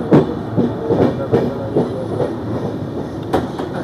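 The 22818 Superfast express, hauled by a diesel locomotive, rolls fast on the rails, its wheels clacking over joints in a quick repeating rhythm under a steady loud rumble.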